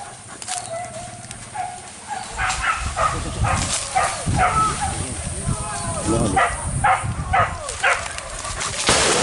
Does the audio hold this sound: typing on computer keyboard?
no